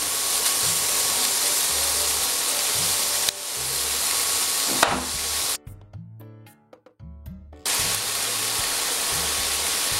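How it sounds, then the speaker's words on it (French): Onions and bacon lardons gently sautéing in a pan for veal kidneys, a continuous sizzle broken by a few clunks and a brief quiet stretch before the frying hiss returns. "oignons, lardons, voilà, on va faire revenir ça tranquillement"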